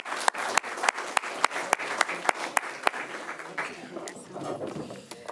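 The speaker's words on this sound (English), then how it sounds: "And a big round of applause for the panelists." At an accelerator launch, an audience applauds panelists: sharp, regularly spaced close claps ring out first, then blend into looser scattered clapping, with speech running underneath.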